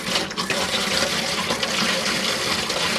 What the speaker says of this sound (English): this is on your hot side of your tap, so that water is getting hot there.